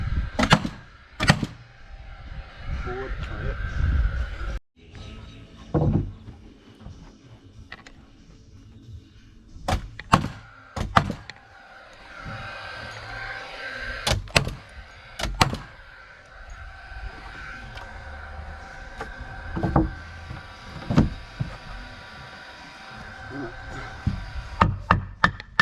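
Sharp wooden knocks and chops ring out irregularly as wooden boards are whacked together to build two small 13 by 13 planter boxes, the loud impacts spaced across a steady background with some talk.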